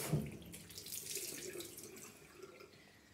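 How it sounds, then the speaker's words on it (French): Water runs steadily from a tap as a face cloth is soaked with warm water, a continuous close splashing stream at moderate level with no voices. "Vous la mouillez bien. Pareil, avec de l'eau chaude si vous pouvez."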